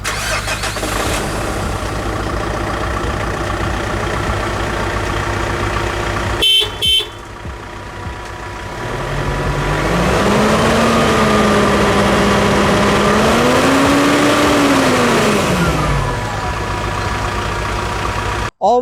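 A Mitsubishi Pajero Sport's 2.5-liter common rail four-cylinder diesel engine runs at a steady idle, drops out briefly, then rises into a revving pull that climbs and falls before settling, ending with a short sharp sound.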